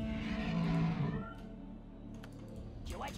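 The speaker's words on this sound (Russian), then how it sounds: "Так, кот орет, все в порядке" A cat yowls in the video game WarCraft 3, giving a drawn-out, wavering cry that fades over about a second, followed by quieter clicks and a brief sound near the end.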